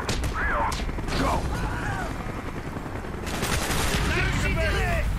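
Dense automatic gunfire and explosions in the Call of Duty Black Ops shooter video game, continuous and loud with a busy battle din throughout.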